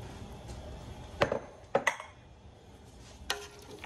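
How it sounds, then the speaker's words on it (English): A few sharp scrapes and clinks of a utensil stirring pork stew in a pot, spaced irregularly over quiet kitchen background. "Give it a good stir."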